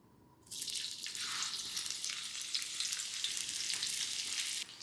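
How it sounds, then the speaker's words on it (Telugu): Onions with salt fry in plenty of oil in a kadai for a chicken fry, a sudden loud hiss that settles into a steady, close sizzle with faint crackles and no talking. "ఉల్లిపాయల్లో ఉప్పు వేసుకొని ఉల్లిపాయలు ఎర్రగా అయ్యేంత వరకు ఫ్రై చేసుకోవాలి"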